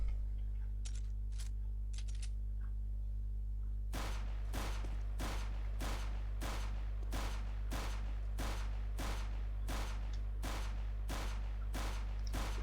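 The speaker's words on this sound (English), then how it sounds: "Let's see how it will shoot now." Rapid gunfire from an aim bot in the video game CS:GO, a long steady string of evenly spaced loud shots over a constant low hum, after a few faint clicks at the start.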